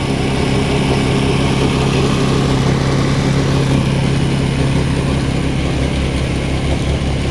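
A 2008 Baja ATV recovered from an abandoned scrap pile, its clutch stuck, runs its engine at a steady idle close by, a loud, even drone with no voices over it.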